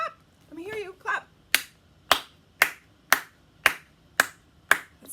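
After a short spoken phrase, sharp hand claps ring out one by one in a slow, even beat, about eight crisp claps spaced roughly half a second apart in an otherwise quiet room.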